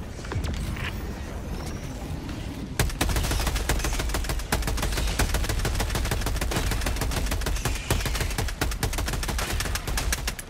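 Rapid, sustained automatic gunfire in a video game crackles nonstop after a brief quieter lead-in. The dense, evenly spaced shots stay loud and close for about eight seconds.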